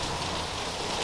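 Heavy summer rain coming down in sheets just outside an open garage, a thick, unbroken hiss of drops hammering surfaces, loud and steady for the whole moment.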